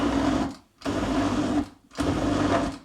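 A food processor blends a sardine ball mixture in three steady whirring bursts, each separated by a brief pause, loud and close.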